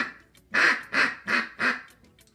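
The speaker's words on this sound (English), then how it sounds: "nothing special about the quack, and really that's all you need to call in a duck right there" Four evenly spaced, nasal quacks blown on a duck call, close and clear, each short and punchy with brief gaps between them.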